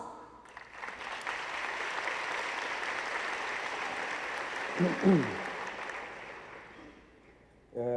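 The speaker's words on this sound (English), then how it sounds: "Round of applause." At a formal European Day dinner, guests give a round of applause for the European Chamber of Commerce chairman, a sustained, fairly distant wash of clapping from a large room, with a voice briefly heard near the middle and end.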